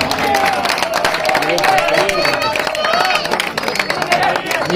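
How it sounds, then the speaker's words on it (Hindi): Loud applause and cheering from a crowd at a prize presentation after the final of a Punjab cricket tournament, dense steady clapping mixed with shouts and crowd babble throughout. "राजपूत बरागरान के नाम की जोरदार तालियां"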